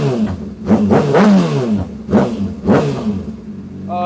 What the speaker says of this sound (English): We rev this baby out to 16's where Redline's at.